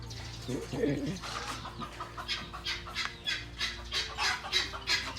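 Guinea fowl and chickens call on a farm in a rapid run of repeated, rhythmic cackling notes, close and fairly loud, with a brief low clucking sound near the start.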